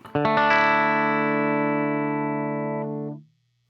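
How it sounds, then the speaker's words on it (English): A single guitar chord strummed once through a Strymon Timeline delay pedal with a completely dry signal, ringing clean and sustained for about three seconds before being cut off, heard alone. "So here's me strumming a chord out"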